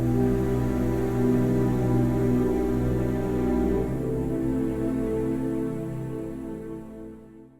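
Layered Omnisphere synth pads sounding together in a thick, sustained chord, holding steady before fading out gradually over the last few seconds.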